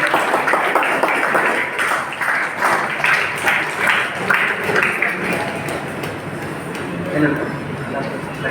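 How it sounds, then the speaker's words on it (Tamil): An audience at a student education guidance event in a hall gives loud, sustained applause, dense clapping continuing steadily throughout at close range with a voice over it. "பலத்த கைத்தட்டம் கொடுக்கலாமே"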